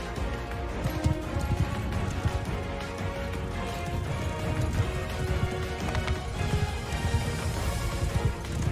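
Cavalry horses gallop in a Mount & Blade II: Bannerlord battle, their hoofbeats a dense, loud, continuous thunder that runs throughout without a break.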